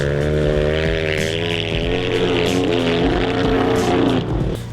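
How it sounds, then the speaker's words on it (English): Kawasaki motorcycles ride a flat track in Paris, their engines making a loud, continuous droning roar with slight rises in pitch as they rev. "we're at Paris, riding some flat track"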